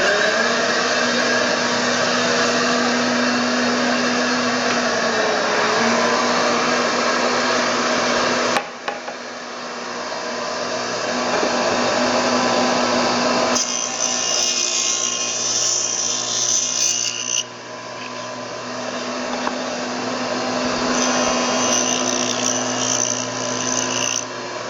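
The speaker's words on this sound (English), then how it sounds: "Now what I'll do is I'll go ahead and cut these dados" A power saw fitted with a half-inch dado set cuts dados in wood for small footlockers, a loud continuous whirring drone with brief dips and changes in pitch as cuts begin and end.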